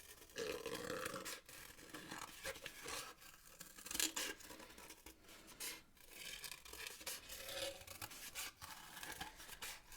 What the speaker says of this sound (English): So we're going to cut each circle out like so.